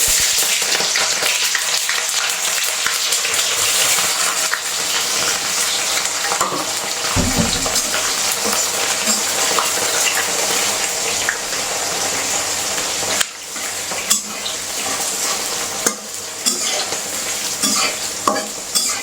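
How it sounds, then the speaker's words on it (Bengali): Chopped onion fries in a pan of oil with whole cardamom, cinnamon and cumin, a dense continuous sizzle close up, with scraping stirs and clatters from a spoon breaking through at intervals. "এখন পেঁয়াজ কুচিটা দিয়ে দিই।"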